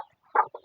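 Backyard hobby-farm chickens, including a hen that raised hatched Chinese duck ducklings, cluck in three short, close bursts after a brief quiet start.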